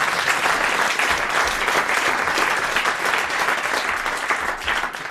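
Sustained studio audience applause on a French radio comedy panel show, a loud, dense wash of clapping from many hands that holds steady for several seconds and tapers slightly at the end, with no talk.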